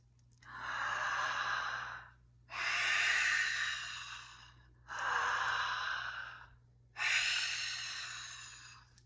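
Four long, audible breaths of three-part yogic breathing come one after another, each a slow rushing inhale or exhale with brief pauses between, close and alone.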